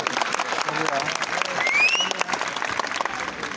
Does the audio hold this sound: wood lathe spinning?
no